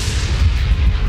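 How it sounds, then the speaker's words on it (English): Twelve-pounder cannon fire used as a sound effect in a historical battle narration, a deep, loud, rolling boom that rumbles continuously with no voices over it. "12-pounder cannon shells fell upon the Manipuri battalion stationed at the foothills of Langatil."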